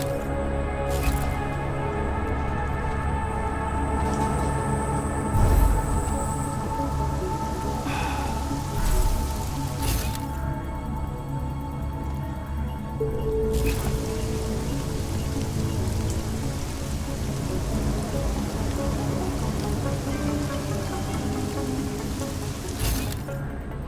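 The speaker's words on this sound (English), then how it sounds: "Enough rain to drown a duck." Heavy rain pours over city streets in the video game Deus Ex: Mankind Divided, a dense, constant hiss with drops spattering on surfaces and a few louder splashes, steady throughout with no speech.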